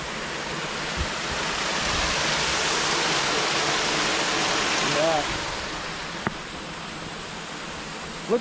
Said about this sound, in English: now we got some flowing water.